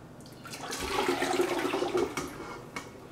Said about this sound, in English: just pick it up and pour it into the top of the filling machine